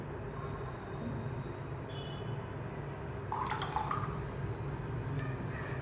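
Coloured liquid poured into a container of clear water, a short trickle of splashes and drips in a quiet room under a faint steady background hum.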